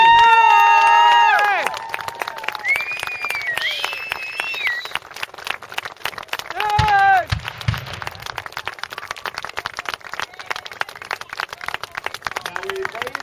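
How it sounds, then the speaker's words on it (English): A crowd at a War of 1812 battle reenactment at Cooks Mills cheers and claps for the volunteers. A loud burst of crowd noise opens the clip and then settles into scattered clapping and chatter, with whistles and cheers rising again midway. "give a rip-roaring round of applause for all these volunteers"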